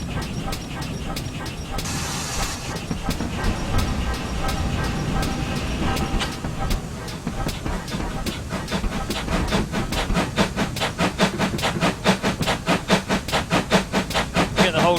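A GWR Small Prairie steam locomotive runs on Western Lines of Scotland in Train Simulator 2015, giving a steady mechanical rumble with steam hiss. Its exhaust chuffs gather into a quickening rhythm, and a voice speaks over it now and then.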